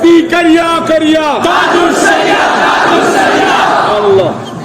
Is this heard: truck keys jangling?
no